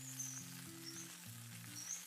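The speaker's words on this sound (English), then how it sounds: "You can see it's frying, and this is a shallow fry." Fish shallow-frying in oil for Cape Malay pickled fish gives a soft, continuous sizzle with faint crackles, quiet and steady, while low musical tones play underneath.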